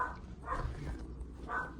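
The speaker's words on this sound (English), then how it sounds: "Yes, we have dogs." Dogs barking indoors in a holiday cottage, three short muffled barks spaced out over under two seconds, fairly faint and somewhat distant, with no talking.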